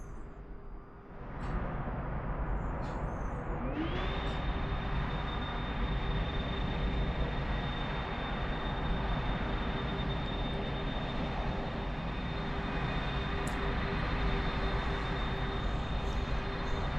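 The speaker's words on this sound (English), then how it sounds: "350 Lufthansa in the background." A Lufthansa Airbus A350 in a flight simulator at Toulouse produces a steady, loud jet engine roar with a rising whine that settles into a sustained high tone, without talk.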